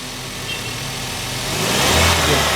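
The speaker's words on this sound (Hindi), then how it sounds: "थोड़ा रेस दो।" A car engine is revved while running, a steady close mechanical roar that swells louder through the second half, heard alone without any voices.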